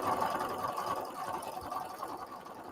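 A sewing machine stitches batik fabric in a steady, close, whirring run. The motor hum stays even and continuous and no one talks.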